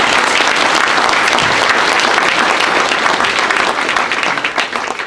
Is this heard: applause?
yes